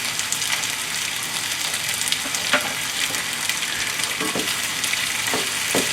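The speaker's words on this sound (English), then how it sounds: "And see the tofu frying good?" Tofu and scrambled egg fry in hot oil in a pan for pad thai, a steady, dense crackling sizzle with scattered sharper pops and spatters, close and continuous throughout with no voices.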